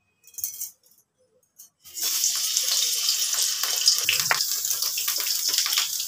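Eggplant pieces, cut and washed for a coriander-leaf eggplant dish, frying in a pan: a steady hissing sizzle starts after about two seconds of near quiet with a few soft clinks, then continues loud and unbroken.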